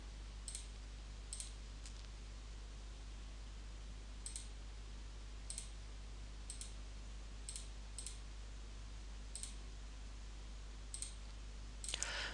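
Computer mouse clicking while editing a table in a document: about a dozen faint, sharp single clicks spread unevenly over a quiet, steady background hum, with no talking.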